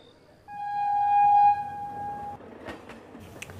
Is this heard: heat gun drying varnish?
no